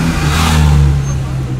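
A car engine drones loudly and steadily close by during Monterey Car Week, a sustained low hum with a slight rise in intensity midway before easing, while voices are faintly present in the background.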